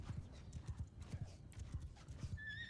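Horse hooves clip-clop in the medieval battle game Mount & Blade 2 Bannerlord, a quick steady rhythm of muffled thuds heard up close, with faint tonal game sounds entering toward the end.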